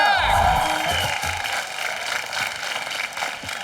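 A studio audience at a Hindi comedy show cheers, whoops and applauds for Rohit Shetty and Deepika Padukone, a loud sustained crowd roar with shouts rising early and then holding at a busy, steady level.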